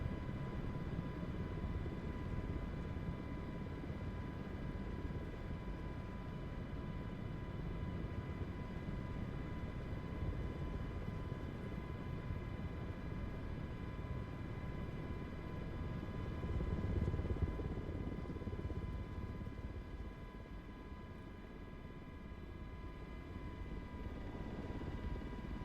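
An MH-60 Jayhawk helicopter flying in Microsoft Flight Simulator 2024, a steady droning engine and rotor hum with whining tones, at constant fairly faint level for the whole stretch with no talking.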